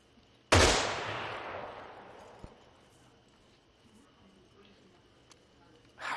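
A single loud gunshot in the Arma 3 military shooter game cracks out and rings off in a long fading echo, followed by quiet ambience with faint voices and another shot starting at the end.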